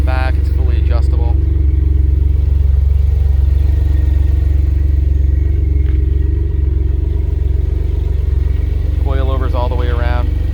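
A 2006 Noble M12 GTO-3R twin-turbo engine runs with a deep, steady, close idle rumble, and someone talks briefly at the start and again near the end.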